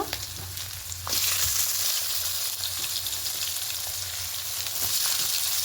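Chopped onion, garlic cloves and dried red chillies fry in oil for a small-fish curry, giving a loud, dense, continuous sizzle that swells after the first second, with occasional stirring scrapes and no voices.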